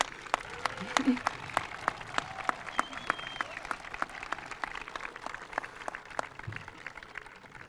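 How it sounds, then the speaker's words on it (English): Applause for the graduating class at a school commencement ceremony, scattered claps rising into sustained crowd clapping with cheering and voices mixed in, steady and moderately distant. "How about a roar of applause for the class of 2026?"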